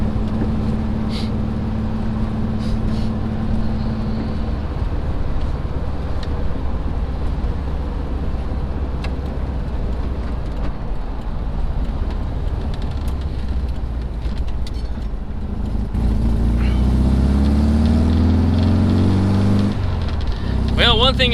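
An air-cooled Volkswagen engine idles steadily while warming up, a continuous low rumble that swells louder near the end, with someone talking over it.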